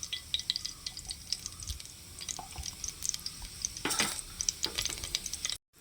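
Ghee heats in a hot pan for biryani rice, giving a light crackling sizzle with scattered pops and stirring scrapes, close and fairly quiet, cutting off abruptly at the end.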